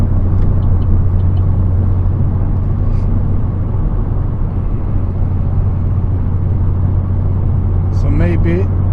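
A car exhaust, fixed for drone with a cheap DIY modification, rumbles steadily in a deep, loud, continuous low hum that stays even throughout, with a brief voice near the end.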